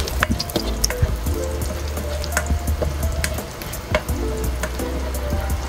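Whole garlic cloves frying in hot oil until golden brown, a steady close sizzle and crackle with occasional sharp pops and stirring clinks.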